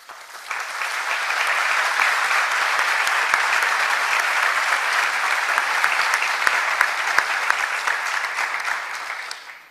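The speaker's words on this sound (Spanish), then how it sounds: "Muchas gracias por sus aplausos" Dense, sustained applause from a lecture audience after a speech at a Spanish history conference, a loud continuous wash of many hands clapping at an even level for the whole stretch.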